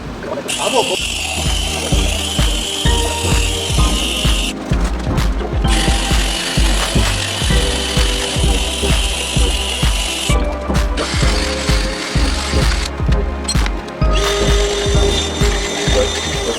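A hand ratchet clicks in rapid repeated strokes, loud and close, while a seized, rusty 1969 Thunderbird engine is slowly turned over by hand, with talk over the steady clatter.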